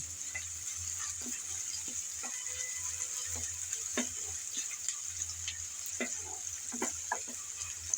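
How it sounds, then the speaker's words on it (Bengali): Onion and garlic frying in a pan while being stirred, a steady faint sizzle with light scattered scraping ticks from the stirring, even and unhurried throughout. "হালকা করে নেড়ে চেড়ে পেঁয়াজ রসুন ভেজে নিলাম"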